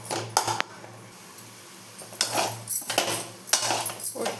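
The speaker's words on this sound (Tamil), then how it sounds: "முட்டை போட்டு பண்ணால் செம்ம டேஸ்ட்டாக இருக்கும்." A spoon stirs a drumstick leaf and egg stir-fry in a pan, giving sharp metallic scrapes and clinks in scattered bursts, close and fairly quiet, with gaps between strokes.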